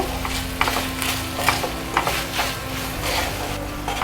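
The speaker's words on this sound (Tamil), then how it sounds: "உப்பு சேர்த்துட்டு இதை நல்லா மிக்ஸ் பண்ணிக்கோங்க." Chicken Manchurian sauce being mixed in a pan, a continuous close sizzle with rhythmic spatula scrapes roughly every half second, no voices.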